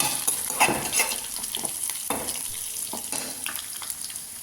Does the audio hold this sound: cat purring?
no